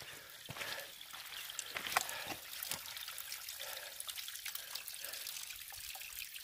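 Mountain spring water trickling and oozing out of a hillside along the Appalachian Trail, a steady close dribble with light splashy drips and no voices.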